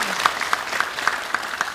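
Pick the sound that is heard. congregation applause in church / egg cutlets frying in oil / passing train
congregation applause in church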